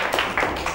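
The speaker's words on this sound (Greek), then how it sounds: "Έλα ένα δυνατό χειροκρότημα στον Ντομένικο." An audience gives a short burst of clapping for a performer at a children's magic show, with quick claps swelling over a steady room noise.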